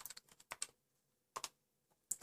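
Close, crisp keystrokes on a TRS-80 Model 1 computer keyboard, tapped in short clustered bursts with brief pauses between them and no voices.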